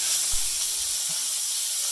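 Salted pork sizzles as it fries in hot oil in a wok over medium heat, a steady, loud, bright hiss that holds evenly throughout with faint low bumps beneath.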